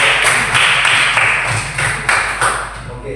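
Applause from a classroom of students, a dense burst of hand claps sustained for about three seconds, fairly close and loud, with no talking over it.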